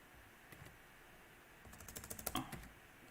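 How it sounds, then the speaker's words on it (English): Quick clicking keystrokes on a new computer keyboard, a couple of isolated taps first, then a faint burst of rapid typing close to the microphone, with no talking. "I hate this new keyboard."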